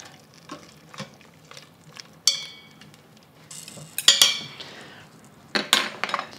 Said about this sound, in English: we're gonna give this a stir just to make sure that all the pieces are in fact cooked through